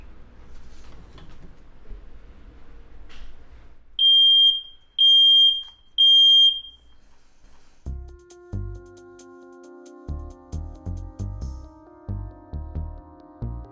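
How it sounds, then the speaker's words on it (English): Three loud, shrill electronic beeps from a smoke alarm being tested, evenly spaced. Quiet rustling comes before them and soft low thumps follow. "I always have a working smoke alarm. Just to make sure it's working, I test it."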